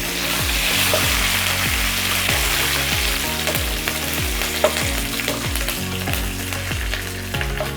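Onions and curry leaves fry in a pan with a steady close sizzle, broken by regular stirring scrapes and clicks about once a second, with no talking.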